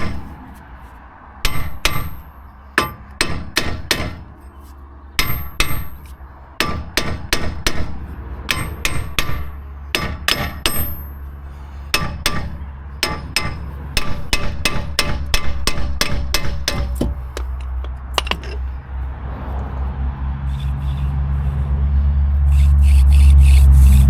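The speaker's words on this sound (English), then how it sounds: "So hopefully with the tap of the hammer" Sharp metallic hammer taps strike a car part on a Mini in repeated bursts of several quick blows with short pauses, ringing clangs that continue for about twenty seconds before a low rumble swells at the end.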